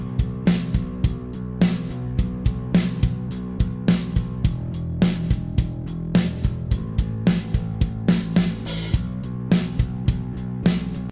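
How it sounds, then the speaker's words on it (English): Bass and drum groove from a Cubase project: punchy, evenly spaced drum hits locked in a steady loop with a deep bass line underneath, loud and clean with no voices. "In this example, we have a bass and drum groove started inside this basic project."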